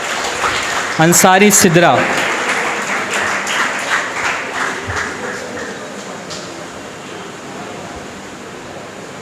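An audience applauds a third-prize winner at an English academy's confidence-building prize-giving. A voice briefly speaks, then a loud burst of clapping follows and fades gradually over several seconds.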